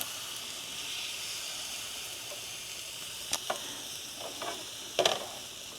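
Pre-cooked steak with soy sauce and butter sizzling in a pan at an overland camp kitchen, a soft continuous hiss with a few brief clinks and stirring sounds near the end.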